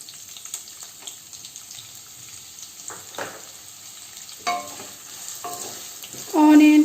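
Chopped onions stirred in a hot pan, giving a soft, intermittent sizzle with scraping stir strokes and a louder burst of frying near the end; no one speaks.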